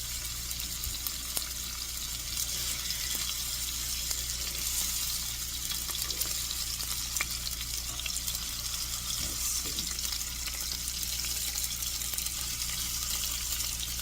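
Steady running tap water as hands are washed in a kitchen, a continuous close hiss lasting the whole stretch with no talking.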